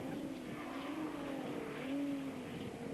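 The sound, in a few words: race car engine downshifting through the gears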